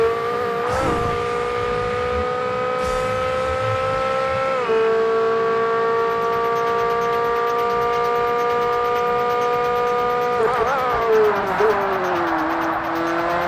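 Toyota GT1 race car in Forza Motorsport (2005) holds a loud, steady high-pitched engine drone with layered harmonics, shifting gears around five seconds and again near ten and a half as revs climb and fall, alone without talk.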